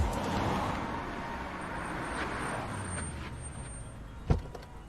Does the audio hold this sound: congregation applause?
no